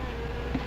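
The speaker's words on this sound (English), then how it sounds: "Wasps? You better be careful. They can sting a man to death." Wasps buzzing steadily at close range in a scene from the 1959 science fiction film The Wasp Woman, a continuous droning hum with no speech over it.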